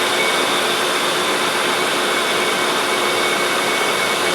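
The engine of a 2003 Mercury Grand Marquis running just after starting, a constant loud hiss-and-whir like a fan or blower, steady and close with no talking.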